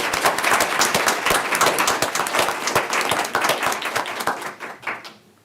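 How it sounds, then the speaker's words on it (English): An audience at a county school board special meeting applauds loudly and steadily, dense clapping that holds for several seconds before tapering off at the end. "Please give them a round of applause too, because this is extra for them."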